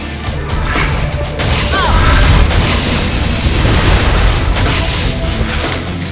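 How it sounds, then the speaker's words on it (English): Rocket explosions in a video game, loud booming blasts and crashes rolling one into another over several seconds with whooshing debris and a steady roar of combat noise. "Those are the weakest rockets I've seen."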